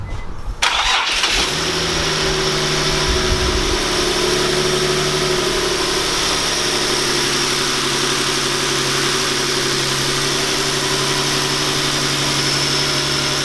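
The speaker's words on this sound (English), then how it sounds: "We're gonna turn it on for the first time." An Infiniti G37 with newly installed eBay aftermarket intakes cranks briefly and fires up, then settles into a loud, steady idle with a low engine hum close by.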